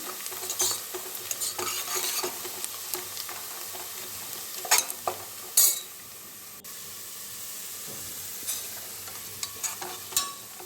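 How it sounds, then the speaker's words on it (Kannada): Onions roasting and sizzling in a pan for vegetable pulao, a gentle continuous fry broken by stirring scrapes and a few louder metallic clinks of the utensil, no voices. "ಈರುಳ್ಳಿ ರೋಸ್ಟ್ ಆಗ್ತಾ ಇದೆ"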